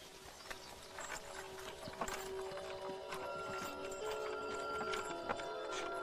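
Horses' hooves clip-clopping steadily on a farm in an old rural landscape, a faint, continuous rhythmic clatter with occasional sharper knocks, heard at a distance over a constant background hum.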